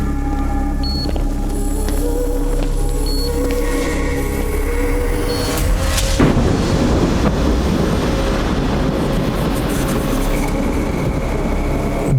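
A sudden thunder crack during a power cut in a Hindi-dubbed South Indian action film bursts in about halfway through, giving way to a loud, sustained rumbling roar after tonal background music.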